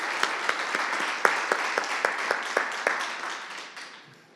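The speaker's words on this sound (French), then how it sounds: "on pourrait même offrir une main d'applaudissement à Marie-Claude" Applause from an audience at a community health study presentation in Calgary, a sustained patter of many hands with sharper individual claps standing out, fading toward the end.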